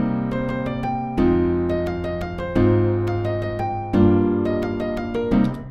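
A drum and bass style chord progression with a melody on top: four sustained chords changing about every second and a half, with bright plucked melody notes ringing over them, clean and alone.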